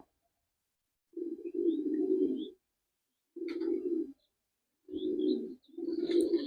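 A Kamagga pigeon cock cooing nearby in several low, rolling phrases separated by short silences, with faint chirps in the background.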